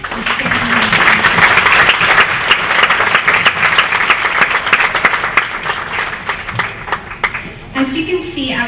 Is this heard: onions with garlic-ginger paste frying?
no